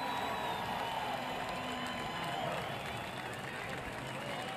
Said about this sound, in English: to a great round of applause for what he just endured.